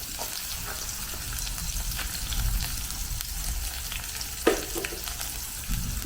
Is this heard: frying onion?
yes